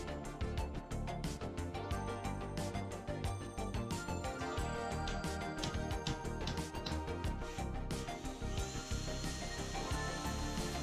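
Continuous power-tool whirring and rough sanding while rounding over wood edges, busy and fairly loud throughout, with no talking.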